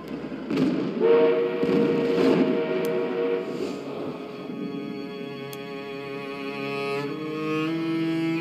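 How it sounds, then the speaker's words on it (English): An enemy armored train in the Battlefield 1 video game sounds a long steam whistle over the rumble of rolling rail wagons, steady and fairly loud with no talk. "An enemy armored train is en route."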